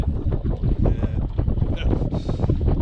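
Strong gusty wind buffets the microphone on the water at Echo Bay, Nevada, during a windy Feelfree Dorado kayak outing, a loud, rumbling roar with uneven surges throughout.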